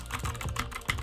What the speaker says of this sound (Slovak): Je počuť, že to je mechanické,